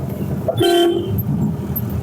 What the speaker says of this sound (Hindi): और यहाँ पे हॉर्न दे दीजिए,